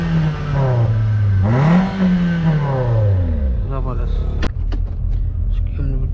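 Engine of a heavily modified Grande car revving up and down, a loud rising and falling drone under speech, with a door or click sound near the end.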